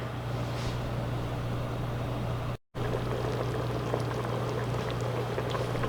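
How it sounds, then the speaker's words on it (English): Water bubbling at a rolling boil, a steady hissing, gurgling wash under a constant low hum, with one brief dropout in the middle. "there you see how the pot boiling up and everything look good"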